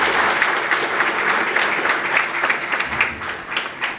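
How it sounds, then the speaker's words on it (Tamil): An audience at a motivational stage talk for students claps steadily and fairly loudly for a speaker, a dense, continuous ripple of hand claps lasting the whole moment. "ஒரு பலத்த கைத்தட்டல் மரியாதைக்குரிய ஜோதிராஜ் சார்."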